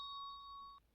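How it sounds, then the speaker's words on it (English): A ringing bell sound effect from a toy picture book plays as a single faint, sustained electronic tone that holds steady and then cuts off. "Bell."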